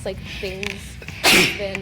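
A single sharp sneeze bursts out between stretches of casual talk, loud and close, with speaking both before and after it.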